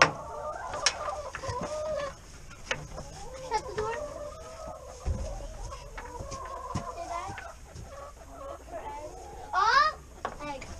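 Chickens cluck and murmur in a backyard coop in the morning, with soft, irregular calls and a brief louder squawk near the end, while people talk quietly nearby.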